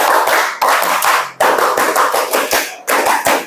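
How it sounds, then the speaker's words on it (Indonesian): A school class does the rhythmic scout clap (tepuk pramuka), sharp group handclaps in repeated patterned bursts with short pauses between them. "yuk, 2 kali tepuk pramuka"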